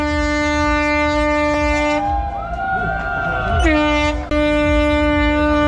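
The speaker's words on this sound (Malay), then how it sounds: "Kita menunggu untuk pelepasan dengan tiupan horn sebentar lagi." Loud, sustained horn blasts signal the start of a sea fishing competition at Port Klang, with steady tonal blaring broken by short pauses and pitch shifts, close and dominant.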